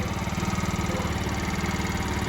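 A Baja scooter engine idles while warming up, a steady, close, even putter with a slight pulsing rhythm and no voices.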